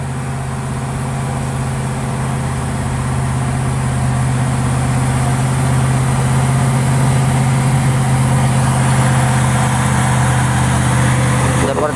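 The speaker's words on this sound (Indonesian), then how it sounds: "Trailer mendaki tanjakan Bukit Kodok." A long trailer truck labors up the steep Bukit Kodok incline, its engine a steady, loud drone with a strong low hum that swells slightly as it climbs, continuous without pause.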